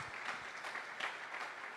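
A church congregation at Victory Quezon Avenue claps in praise after worship. Steady, dense clapping sounds faint and a little distant throughout.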